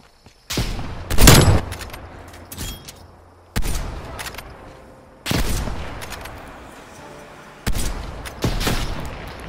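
Call of Duty gunfire in four separate loud bursts of rapid shots, each cutting in sharply and decaying before the next, with near-silent gaps between them.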